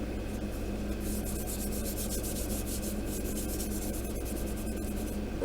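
A Scotch-Brite pad rubs over the seams of a plastic War of the Worlds war machine model kit, making a continuous close, dry scrubbing hiss with quick back-and-forth strokes.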